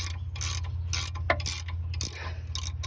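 Stuck piston rings crack free in the cylinder of a car engine as it turns over, giving a repeated ratcheting click in an uneven rhythm over a steady low hum, close and fairly loud.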